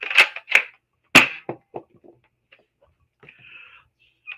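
A Nerf blaster fires several sharp, snappy shots close by. Three loud cracks come in quick succession, followed by softer mechanical clicks and rattles that fade into near silence.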